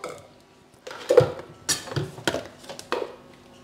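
A frying pan is set aside in a home kitchen, giving a handful of close metallic clanks and clinks in quick succession, with no talk.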